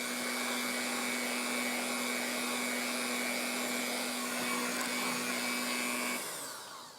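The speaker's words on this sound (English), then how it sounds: "Now just mix this all together." An electric mixer blends sweet potato spice cake batter, a continuous steady motor hum and whir that runs for about six seconds before winding down near the end.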